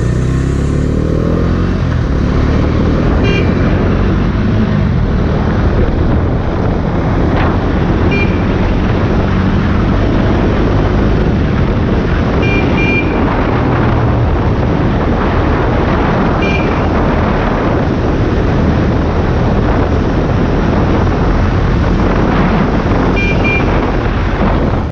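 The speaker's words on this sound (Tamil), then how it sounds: "வண்டியோட புல்லிங் பவர் எப்படி இருக்குதுன்னு பார்ப்போம்" A 250cc motorcycle, compared among the KTM Duke 250, Vitpilen 250 and Bajaj Dominar 250, accelerates on a test ride, its engine droning loud and continuous under heavy wind rush throughout.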